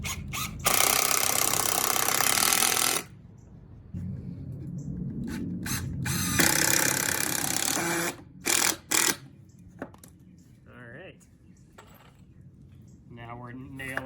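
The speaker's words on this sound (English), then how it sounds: "Now we're nailing the side support into the balance beam, screwing." A power driver drives screws through a side support into a wooden balance beam in loud sustained whirring bursts, several long runs and a few short stuttering pulses, broken by quieter handling noise and brief clicks.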